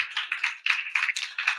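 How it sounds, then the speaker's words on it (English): An audience claps in short, quick bursts, a brief sharp patter of applause that rises and dips over a second or two. "So that deserves applause in and of itself."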